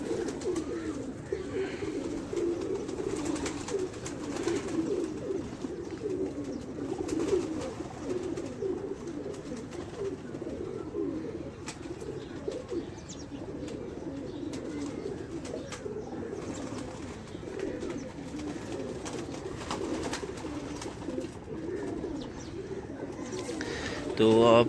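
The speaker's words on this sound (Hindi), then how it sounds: "परवाजी कबूतरों का भी शौक करवाते हैं" Flying pigeons on a rooftop coo steadily in a soft, continuous throaty murmur close by, with occasional wing and scuffing noises and people talking over them.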